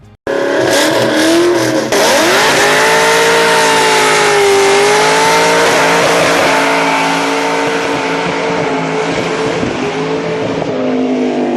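Terminator Cobra Mustang nicknamed Snakebite revving hard and loud, engine pitch rising and falling through sustained high-rpm pulls, with a brief tire squeal near the start and no talk.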